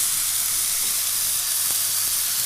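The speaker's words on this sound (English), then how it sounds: "Press the steak down with your tongs to make sure it's in good contact with the pan" A steak sizzles in a hot frying pan while being pressed down with tongs, giving a steady, loud, close hiss that continues without a break.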